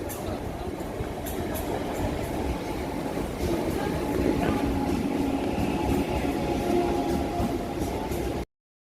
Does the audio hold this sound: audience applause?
no